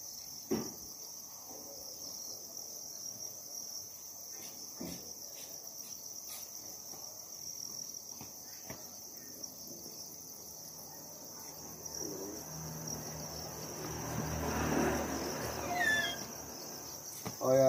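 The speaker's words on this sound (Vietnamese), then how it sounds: "Đây con dế đực, bà con thấy chưa, siêu to khổng lồ đây đấy" Male crickets chirp steadily at a cricket farm in Thai Binh, a dense, continuous high trill with occasional clicks and rustles, and a voice speaking briefly near the end.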